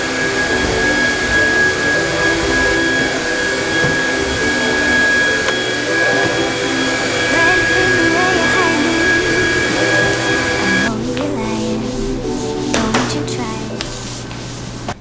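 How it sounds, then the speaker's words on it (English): A Dyson vacuum cleaner runs loud and steady with a high whine during household cleaning, its tone shifting near the end as it moves or cuts back. "You just vacuum while everything is dry."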